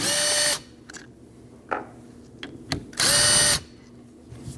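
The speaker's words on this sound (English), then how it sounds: "remove your 2 14mm bolts that hold your bracket to your caliper" Power tool, likely an impact driver or drill, removing the two 14mm caliper bracket bolts on a 2012-2016 Honda CR-V front brake: two loud, sustained bursts of high whine, separated by quieter clinks of tools and parts.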